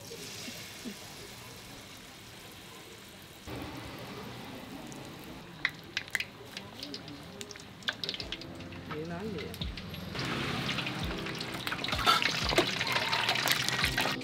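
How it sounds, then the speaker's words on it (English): Battered hot vit lon frying in oil at a street food stall, a steady crackling sizzle that swells louder toward the end, with background voices and market noise. "You hear the oil frying it up."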